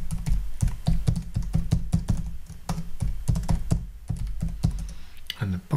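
Rapid keystrokes on a computer keyboard while an email address is entered during a Home Assistant setup, a steady close clatter of taps across the whole stretch with brief pauses.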